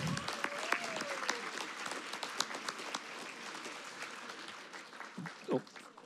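An audience at a keynote talk applauds, a dense, steady wash of clapping from a hall full of people, moderately distant, with a few louder nearby claps and brief voices rising near the end.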